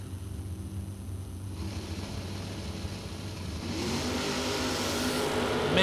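Drag race cars launching off the starting line, a broad engine roar that swells louder and brighter midway as the cars pull away, with no talk over it.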